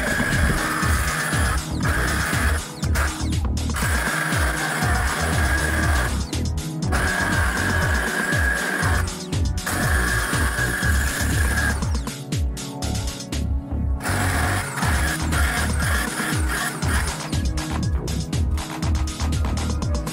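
An angle cutter grinds through a workshop project involving an electric hand drill's forward/reverse switch, a loud continuous whine broken by several short pauses and restarts, close and dominant.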